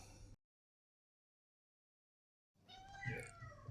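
A cat meows near the mic after a stretch of silence, a single drawn-out plaintive call with a short noisy bit before the gap.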